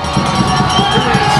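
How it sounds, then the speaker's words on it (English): High school football fans in the stands cheer on their defense during a rivalry game, a loud, continuous roar of crowd noise with rhythmic low thumping underneath. "Pleasant Grove fans on their feet here, cheering their defense on."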